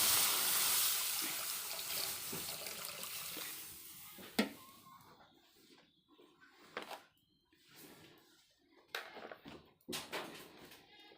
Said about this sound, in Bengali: কড়াইতে দিয়ে দিব পানি